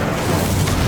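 An Incendio fire spell going off in Hogwarts Legacy, a one-second surge of loud, rumbling, whooshing fire that sustains thickly from start to finish without a clear break.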